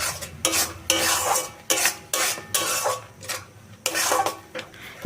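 Grated coconut being stirred into a palm fruit batter in a metal pot, a spoon scraping in repeated bursts about once every second, close and clear with no talking.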